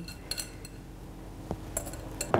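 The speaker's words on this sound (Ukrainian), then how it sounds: "Все разом ми вимішуємо зараз і ще раз збиваємо." A whisk clinks and scrapes against a bowl while egg, mustard and anchovy are beaten into a sauce, a steady busy clatter with sharper knocks near the end, no voices.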